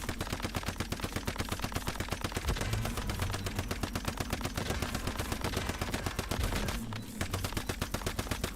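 Rapid, evenly paced automatic gunfire in the survival shooter Once Human, a steady stream of fairly close shots with a short pause near the end, no talking over it.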